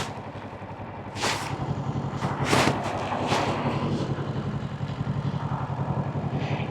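A newly bought motorcycle rides home along a road in first gear, its engine droning steadily with wind rush and a few louder swells as it moves through traffic.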